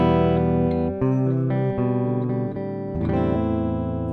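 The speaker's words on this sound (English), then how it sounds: "This allows you to get compression, EQ for your guitar, so you can get some really cool tones" Electric guitar played through a Steinberg UR22C USB 3.0 audio interface channel strip with compression and EQ, sustained chords and notes ringing with a processed, distorted tone, changing every second or so, with no talking.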